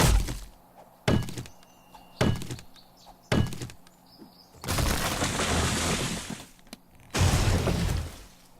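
Clay is struck to collect it in the 7 Days to Die video game: four evenly spaced, heavy thunking hits, then two longer, louder bursts of crumbling noise.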